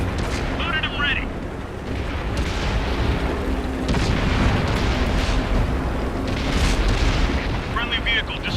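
Booming tank explosions and gunfire rumble in a World of Tanks battle, a dense continuous roar with heavy low thuds as a vehicle is destroyed.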